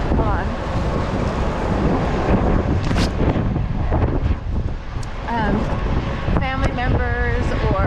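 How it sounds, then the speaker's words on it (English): Strong wind gusts on a city street at sunrise buffet the microphone in a steady roaring rush, with brief tonal bursts of street noise and faint voices underneath. "a lot of wind down here at 11"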